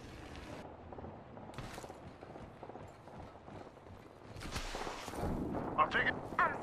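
Gunfire in the shooter game Apex Legends, scattered muffled shots and thuds with a denser burst of firing near the end, over soft background noise.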